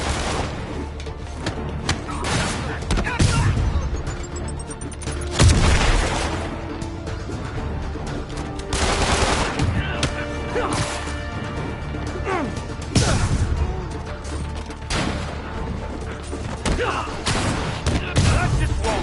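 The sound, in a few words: gunfire in a video game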